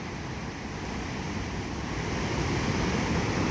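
Big ocean waves rolling in at Hilo Bay, Hawaii on a rainy day, a steady dense wash of surf and wind roar with no distinct breaks or voices.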